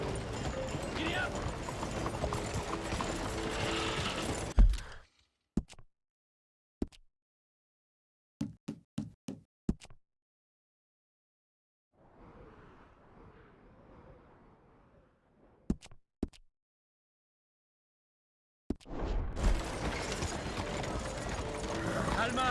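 Horse hooves clip-clop in short, sparse bursts of clicks while a horse is ridden through a western town in Red Dead Redemption 2, with stretches of silence and loud speech and game noise before and after.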